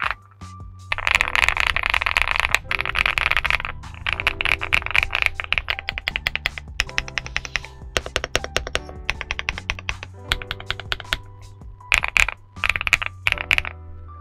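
Someone types on an Infiverse Infi75 mechanical keyboard, stock out of the box, in close, crisp clacks. Rapid bursts of keystrokes are broken by brief pauses, over a low steady background hum.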